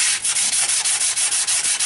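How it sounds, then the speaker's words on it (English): Steady abrasive sanding of rosewood on a large disc sander, a rough hissing grind with a regular rhythmic pulse about four times a second, close and loud with no voices. "I noticed that rosewood burns really easy on that big old disc sander."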